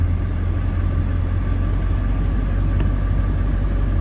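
A vehicle engine idles steadily as it drives through an old tobacco barn, a constant loud low rumble with a mid-range hum and no break across the clip.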